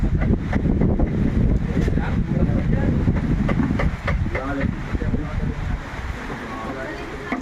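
Strong storm wind roars steadily into the microphone, a constant buffeting rush with voices faintly audible beneath it.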